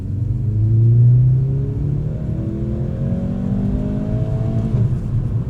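A 2025 Mercedes-AMG C43 in comfort mode accelerates along a straight road, its engine note rising steadily through the revs as interior rumble carries underneath, then dropping briefly at a gear change before climbing again.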